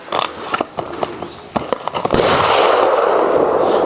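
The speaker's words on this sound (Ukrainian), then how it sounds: "5 пострілів, патрон GGG, е, Sierra Match King, HPBT." A Daniel Defense rifle fires GGG Sierra MatchKing HPBT ammunition, giving several sharp, close reports in quick succession, followed by a sustained rush of broadband noise.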